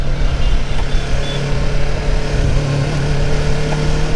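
Motorcycle with a worn racer set bearing, riding along with a rough, continuous rumbling drone that stays loud and close for the whole stretch, without any talking.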